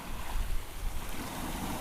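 Big ocean waves and gusting wind of about 30 to 40 knots roar steadily around a sailboat under a double-reefed staysail off the U.S. southeast coast, a continuous near rush of surf and wind noise with no talk.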